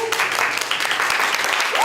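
Audience applause at a press event for an immersive nostalgic music concert, welcoming a singer; a dense, steady wash of clapping throughout, with a voice over it.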